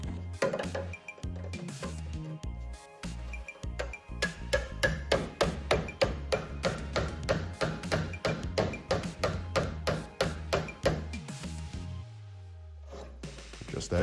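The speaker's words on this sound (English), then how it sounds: "the chisel can take it the rest of the way" Hammer blows drive a chisel through layered car body sheet metal while a one-piece T-top header panel is installed, a steady run of loud, close, rapid metallic strikes that stop near the end.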